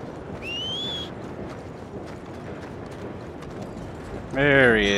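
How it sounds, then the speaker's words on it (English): Horse in Red Dead Redemption 2 approaching, with soft repeated hoof clip-clops under a steady background wash, a brief whistle early on and a louder tonal cry near the end. "I'll see if I can get my horse to come."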